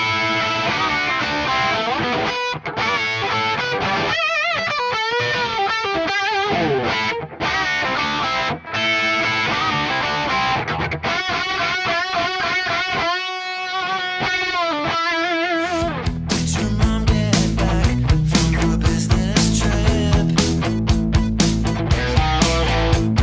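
Distorted electric guitar lead tone for pop-punk played through a Quad Cortex amp modeler, a loud sustained solo with bends and fast runs over a full backing mix, heavier chords joining near the end, with no talking.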